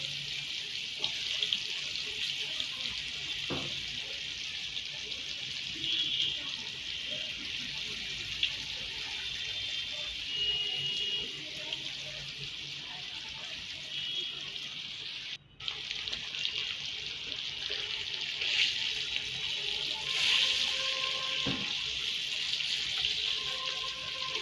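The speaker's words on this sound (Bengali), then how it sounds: "এবার সবগুলো কাঁকরোল ভালোভাবে ভেজে নেব, একটু ব্রাউন কালার করে ভাজবো" Teasel gourd (kakrol) pieces frying in soybean oil, a steady close sizzle with a hissy watery texture running unbroken throughout, with no talking.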